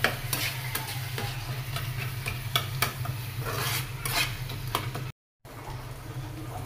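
Dried red chilies fry and sizzle in a pan for a homemade tomato mash, with a steady crackling hiss and a few clicks from stirring, continuous apart from a brief drop into silence near the end.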